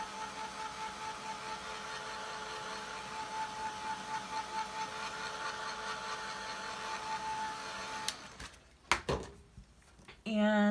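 A watercolor painting of a floral crown design is dried with a heat tool, a steady loud blowing whir running for about eight seconds, then cutting off into a few scattered handling clatters and rustles.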